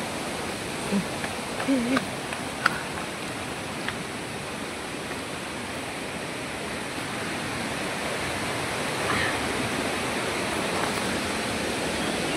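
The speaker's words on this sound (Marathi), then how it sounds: "तो बघू शकता सावतकडा धबधबा" Savatkada waterfall roars steadily and evenly, a dense, constant rush of falling water, with a few faint human sounds early on.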